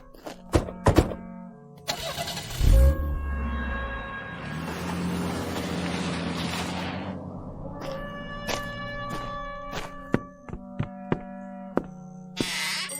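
A radio-drama car effect: a door thunks, then an engine starts and runs with a rising, rumbling drive-off before fading, followed by more scattered thunks, with no voices and close, fairly loud sound throughout.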